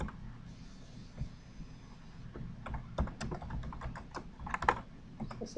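A computer keyboard clacks as a name is typed, a short burst of close, moderately loud key presses over a low steady hum.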